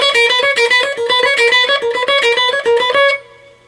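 Electric guitar riff, played with straight alternate picking: a rapid, even run of picked notes for about three seconds, then a final note left ringing and fading, clear and upfront.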